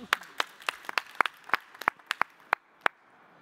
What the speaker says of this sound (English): Round of applause for Lars.